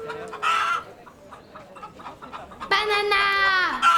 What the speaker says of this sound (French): Et on finit par Linda et son poulet qui courent derrière elle